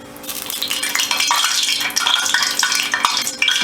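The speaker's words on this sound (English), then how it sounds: "You hear how that grease is going? That means it's time to put that fish on." Hot grease sizzles in a pan for frying tilapia, giving a steady, bright crackling hiss throughout, close and fairly loud, with faint clinks of cookware over it.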